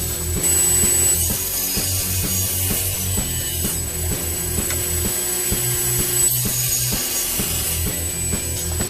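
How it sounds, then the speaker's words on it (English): An oak board edge being sawn with a straightening jig, a continuous rhythmic rasping and ratcheting cut with regular strokes, close and fairly loud, no voices. "I'm using my straightening jig to straighten up one of the edges of the board."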